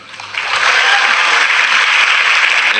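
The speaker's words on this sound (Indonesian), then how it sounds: "bagus, tepuk tangan dulu." An audience at a speech in Jakarta starts clapping, swelling quickly within half a second into loud, sustained applause that holds steady to the end.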